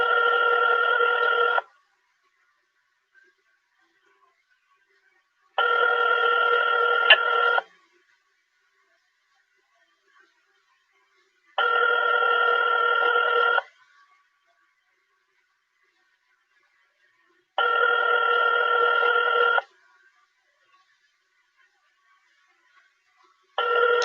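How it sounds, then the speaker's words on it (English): A telephone rings unanswered in regular bursts, about two seconds of ringing followed by roughly four seconds of silence, repeating five times, clear and alone with no talking. "Now they're not even answering the phone."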